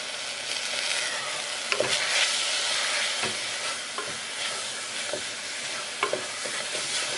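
Tomatoes and turmeric, coriander, chilli, pepper and masala powders sautéing in a pan, a bright steady sizzle broken by regular spatula scrapes and taps, close and unaccompanied by talk.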